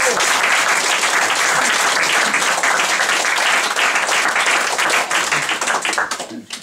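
A theatre audience applauds a one-man show performer, dense sustained clapping filling the room loudly for several seconds before thinning out near the end.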